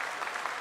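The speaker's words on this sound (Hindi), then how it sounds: "आप तालियों के गड़गड़ाहट से सुन सकते हैं" Dense, continuous applause fills a control room during the Chandrayaan-3 moon landing broadcast, a brief steady burst of many hands clapping.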